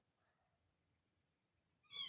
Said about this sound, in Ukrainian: моя кішка вже м'яукає.